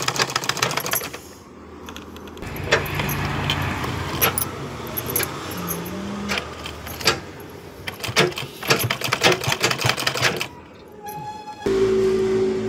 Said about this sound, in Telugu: బ్లౌజ్ స్టిచ్చింగ్ చేస్తున్నానండి.